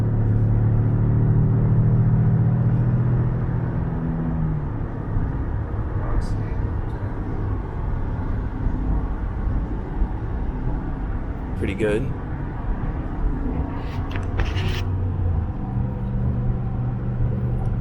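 A steady, deep pickup truck engine rumble with augmented engine sound, likely a V6 Ford F-150, low droning hum throughout, loud and close, with a brief spoken remark over it.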